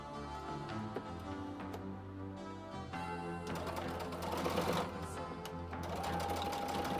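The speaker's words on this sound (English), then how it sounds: "I'll just keep on sewing that until and when I get down to the end" A sewing machine runs steadily and close up, stitching scrappy quilt binding along a flange edge. Its rapid mechanical whir continues without a break, speeding and slowing slightly, with no voices over it.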